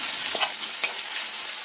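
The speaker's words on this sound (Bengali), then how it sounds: "ক্যাপসিকাম দিয়ে ভালো করে ভেজে নেব।" Mixed vegetables with capsicum stir-fry in a pan with salt, vinegar, soy sauce and sugar, making a soft continuous sizzle broken by two quick scraping stirs.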